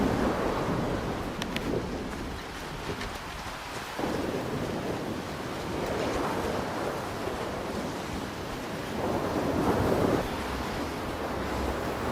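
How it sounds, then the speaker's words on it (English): Stormy weather in the video game S.T.A.L.K.E.R. 2 out in open fields: a steady rushing wash of wind and rain with low rumbling swells like distant thunder, rising and falling at a moderate level. "we are getting some very stormy weather on the way back."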